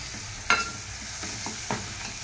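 Chopped onions, green chilies and ginger garlic paste fry in a pan for a fish curry, a faint steady sizzle broken by a few soft stirring scrapes.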